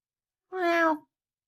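A single short meow from a nearby cat, clear and close, rising slightly and fading, with silence before and after.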